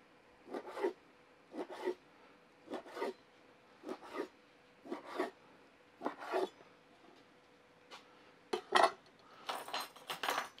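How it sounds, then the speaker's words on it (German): A knife cutting grilled eel into bite-size pieces: about a dozen short, scraping cuts at irregular intervals, close and fairly quiet, with brief clinks near the end and no talk. "Wir schneiden mundgerechte Stücke."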